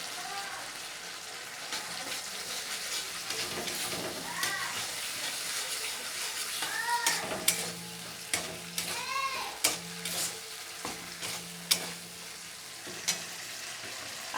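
Prawns rubbed with salt and turmeric sizzle and crackle as they fry in spice paste in a pan, with intermittent stirring scrapes and bubbling pops throughout.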